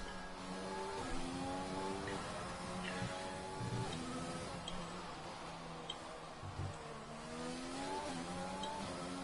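Williams racing car heard on board in a racing video game around the Monaco circuit, its engine whining through rising and falling gear shifts as it accelerates and brakes, loud and continuous.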